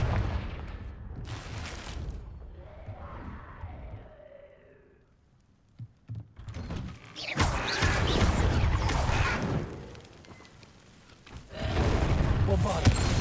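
Fiery Confringo spell blasts in Hogwarts Legacy erupt as loud bursting explosions with crackling, rumbling tails, separated by a quieter lull and broken by a spoken incantation.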